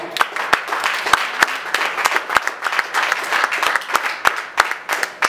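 Church congregation applauding together during a worship service, a steady crowd of clapping hands with sharp individual claps standing out, sustained throughout with no talk.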